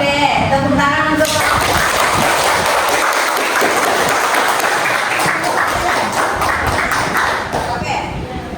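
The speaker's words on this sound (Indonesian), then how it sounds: "tepuk tangan untuk" A workshop audience bursts into loud, dense applause after a group presentation, steady and close for most of the stretch before tapering slightly at the end, with some knocks and thuds in the mix.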